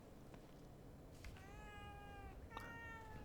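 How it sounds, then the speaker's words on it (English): A cat meows twice in The Evil Within 2, each call a clear rising-falling tone over low ambient game hum, fairly close and alone without talk. "What do you have for me, cat?"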